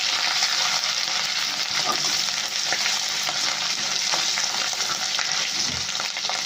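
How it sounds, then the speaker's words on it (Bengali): Ginger frying and being stirred in a pan makes a steady close sizzle with light scraping clicks of the spoon throughout, fairly loud, with no talk. "আবারও ভালো করে নাড়াচাড়া করে আদাটা ভেজে নিতে হবে"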